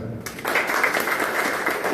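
Audience at a rally bursting into applause, a dense burst of clapping that starts abruptly and stays steady to the end.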